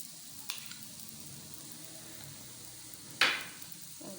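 Radish-stuffed paratha cooks in ghee on a hot pan, a soft continuous sizzle with a sudden louder hiss burst near the end and a smaller crackle earlier.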